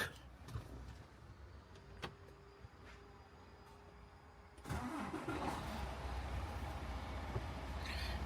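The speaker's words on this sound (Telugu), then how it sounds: "start the truck" A truck engine cranks and fires at about 4.7 seconds, then settles into a steady, loud, close idle. No one speaks.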